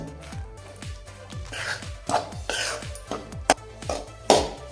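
A spoon scraping and clanking against a metal pan while date powder is stirred into a methi ladoo mixture, repeated rhythmic strokes about twice a second, close and moderately loud, with no talking.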